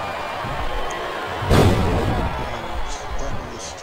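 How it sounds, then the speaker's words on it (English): Steady roar of a packed arena crowd in the wrestling video game WWE SmackDown vs Raw 2007, with a brief louder surge of cheering midway before settling back into a constant din. "It sounds like this capacity crowd has something on their minds, Taz."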